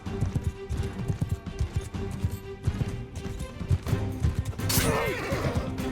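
Horses neigh and whinny loudly during a cavalry battle in the video game Mount & Blade II Bannerlord, over a busy thumping of galloping hooves and clashing noise, with one long shrill whinny toward the end.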